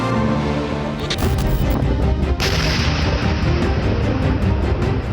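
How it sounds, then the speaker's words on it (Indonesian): A thunderous, sustained roar of explosive blasts from the destruction of expired military ammunition fills the recording, dense and loud throughout with rumbling and crackling debris. "Ledakan saat pemusnahan amunisi kadaluarsa sebenarnya merupakan hal biasa"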